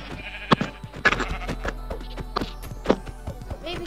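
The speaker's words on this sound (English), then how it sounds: "There's lots of sheep up here." Sheep in the Minecraft video game bleat several times in short, separate calls over a steady background hum, fairly close and clear, with no talking.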